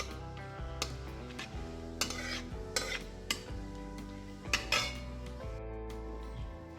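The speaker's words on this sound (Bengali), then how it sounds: "গোটা গরম মশলা লবঙ্গ দারচিনি ছোটো এলাচ কয়েকটা শুকনো লঙ্কা আর একটা তেজপাতা একসাথে এটা ভাজা হয়ে যাবে" Clinks and stirring clatter of a utensil in a pan over a steady frying sizzle of whole spices (cloves, cinnamon, cardamom, dried chillies, bay leaf) in hot oil, with sharp metallic taps scattered throughout.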